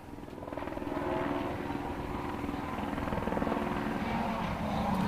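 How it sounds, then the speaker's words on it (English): A helicopter at the Circuit of Ireland Rally thrums steadily in the distance, its rotor chop a low, continuous pulsing drone that stays fairly faint throughout. "Hear Derek McGarty's helicopter in the background"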